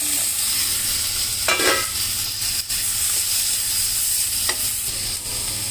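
Fenugreek and drumstick leaves frying in a pan give a constant hiss and sizzle, with a couple of short stirring scrapes close by and no talk.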